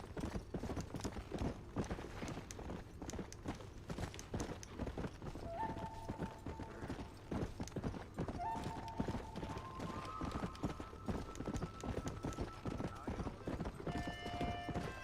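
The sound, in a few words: horse galloping in video game Red Dead Redemption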